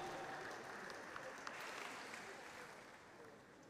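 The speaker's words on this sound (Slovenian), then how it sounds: "Še en aplavz za vse dobitnike priznanj leta" Applause from an audience at a school award ceremony for the year's prize winners, steady clapping that fades slowly across a few seconds, with some murmured voices underneath.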